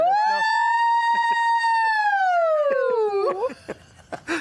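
A voice imitates an ambulance siren in a hollerin' performance, a long sustained rising-and-falling wail that slides down, followed by a few short vocal sounds.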